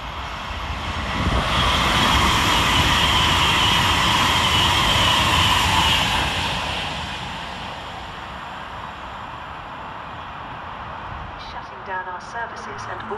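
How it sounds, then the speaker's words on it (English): An Avanti West Coast Class 390 train runs fast through Milton Keynes Central on the far side, a loud rushing roar that swells for several seconds and then fades into station ambience, with a person speaking. "Passing through fast over on the far side is 390-049, working 9 Golf 21 for Avanti West Coast from London Euston to"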